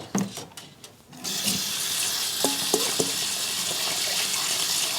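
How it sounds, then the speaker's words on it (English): Cold tap water runs steadily over chive blossoms in a kitchen sink, starting after a second of quiet handling and continuing as a close, even splashing rush. "we're going to rinse these with cold water"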